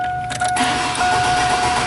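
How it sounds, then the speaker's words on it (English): A GMC Jimmy / S10 Blazer with a no-start, no-spark fault cranks over steadily, the starter and engine turning continuously at close range with no catch. "So let's go ahead and crank it over."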